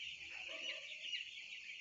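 Broiler chicks on the fourth day of rearing cheep around a feeding dish on a poultry farm, a steady high chorus of thin peeping calls that continues throughout, close and dense with no pauses.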